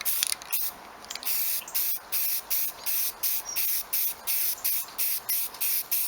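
An airbrush sprays light paint coats onto a vintage fuel can in short, even hissing bursts, about a dozen in steady rhythm, close and alone.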